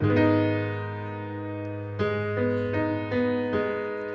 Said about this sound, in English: That was a minor chord indeed.